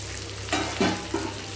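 Chicken frying in a pan is stirred, giving a few short scraping, sizzling pushes over a steady background hiss, close up and without talk.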